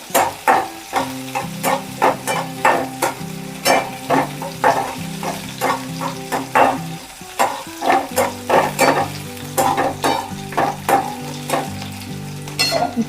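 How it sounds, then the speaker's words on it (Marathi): Green chilies frying in a pan for Marathi-style poha, a steady oily sizzle broken by rhythmic scraping and stirring strokes of a utensil against the pan, close and loud with no talk. "मिरची चांगली परतून घ्यायची."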